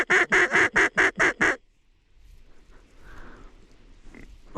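Mallard ducks let out a fast run of seven loud, close quacks in a descending sequence, followed by a quiet stretch of faint, distant marsh ambience.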